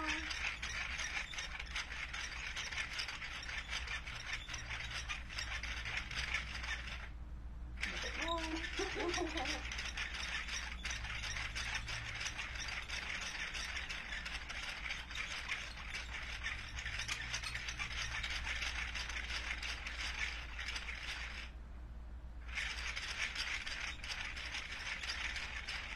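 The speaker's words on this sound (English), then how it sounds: "So we're twisting, and we've got 3 strands of equally twisted yarn here, which is the beauty of this rope machine." Schacht rope machine twisting three strands of thin yarn by hand crank, a continuous fast ratcheting gear clatter with two brief pauses, faint and close.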